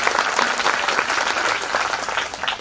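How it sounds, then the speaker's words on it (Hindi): An audience at a Bhagavat Katha religious discourse gives a warm round of applause to welcome a guest, steady dense clapping from a crowd heard close and continuous. "एक बार ताली बजाकर उनका स्वागत करें।"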